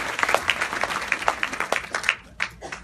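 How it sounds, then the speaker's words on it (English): An audience at a training event applauds, a dense patter of many hands clapping at once that thins out toward the end, heard fairly close. "Give yourselves a round of applause for that."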